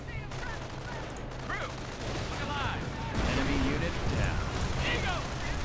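A tank firing in the World War II strategy game Company of Heroes, heard as muffled, booming shots and battlefield rumble that grow louder partway through, with faint voices mixed into the din.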